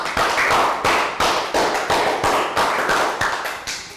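Children in a Year 3 maths class clap a round of applause as a loud, steady rhythmic pattern, about two claps per second in unison, close by and with no talk.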